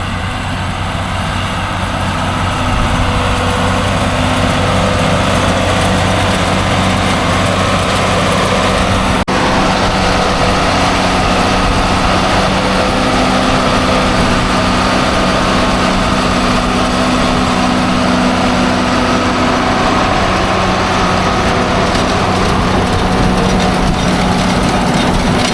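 Farm tractor engine running steadily while pulling a baler through windrows, a loud continuous drone with constant mechanical rumble, close by and unbroken for the whole stretch, no talking.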